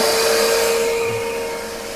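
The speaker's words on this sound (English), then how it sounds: "go ahead and turn on the vacuum" Steady broadband whoosh of the vacuum on an SLS4ALL Easy post process station for 3D-printed powder parts, running continuously and fairly loud with a faint tonal whine, no voices.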